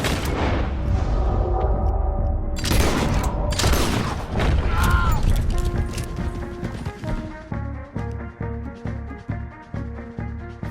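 Rapid gunfire crackles through a video game shootout, dense volleys layered over music, rumbling booms and galloping hoofbeats, loud and sustained with short sharp bursts near the end.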